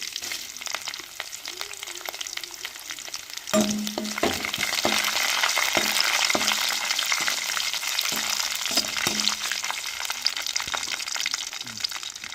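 Mustard seeds, curry leaves and dried red chilies dropped into hot oil for a South Indian stingray fish dish, erupting into a loud, steady sizzle with scattered pops and crackles that holds throughout.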